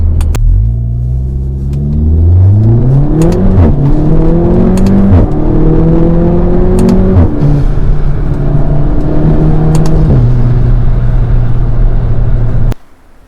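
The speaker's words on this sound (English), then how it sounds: "spoolie noises. I'm being super light on the car still." A turbocharged Volkswagen Golf R Mk7 engine rumbles and revs up through several gears under light throttle, with turbo spool noises, pitch climbing and dropping with each shift, loud and close before cutting off at the end.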